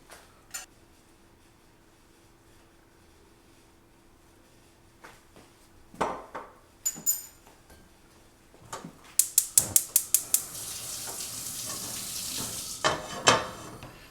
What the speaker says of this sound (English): the butter and the oil is all mixed together. You can hear it, that it's ready